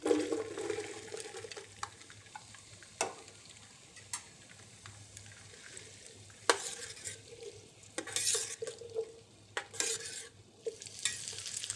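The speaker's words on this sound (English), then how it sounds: "In a heavy saucepan, heat clarified butter and sauté medium-diced mirepoix" Diced mirepoix sautés in clarified butter in a heavy saucepan, a soft, quiet sizzle broken by frequent sharp scrapes and clinks of a utensil stirring against the pan.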